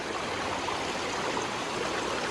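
A river dammed into a small pool flows steadily, a constant wash of rushing water with no breaks, soft and even throughout, with no voices over it.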